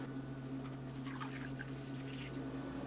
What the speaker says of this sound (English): So I've got my sparge water going super slow.